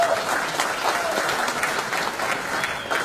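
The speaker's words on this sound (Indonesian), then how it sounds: "tepuk tangan lagi Pak Penanya itu" An audience at a meeting of national figures applauds a questioner, steady dense clapping that holds evenly at moderate loudness for the whole span with no voices over it.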